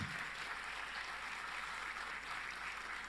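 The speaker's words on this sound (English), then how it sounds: "Please give them a big round of applause." An audience at a school annual day event applauds teachers, a faint, distant, even wash of clapping that holds steady across the short stretch with no talk over it.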